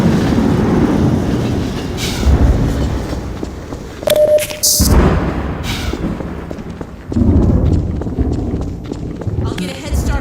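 A train rumbles past in the Half-Life 2 Episode One video game, a loud steady roar with clanking bursts and a brief tonal squeal midway, heavy low rumble throughout.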